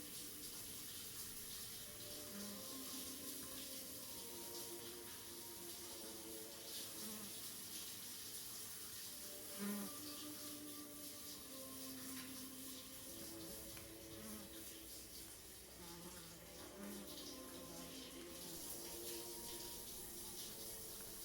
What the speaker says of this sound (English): You turn the faucet off and dry yourself off.